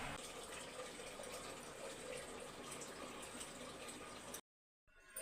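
Dissolved jaggery syrup poured through a strainer into a pot of mango, brinjal and drumstick sambar, a steady close liquid splash and trickle running continuously before stopping abruptly near the end.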